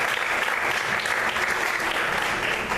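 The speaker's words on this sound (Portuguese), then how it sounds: "Aplauda o Senhor, igreja, em nome de Jesus." A church congregation claps together in a dense, steady burst of applause that fills the room and stays even throughout, with no voices standing out.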